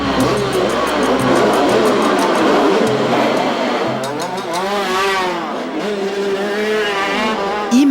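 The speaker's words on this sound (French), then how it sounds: "Imaginez que vous pilotez une moto à 250 km/h sur une chaussée trempée." Racing motorcycle at high speed on a soaked track, roaring loud and steady with rising and falling engine pitch as it passes, a continuous near drone throughout.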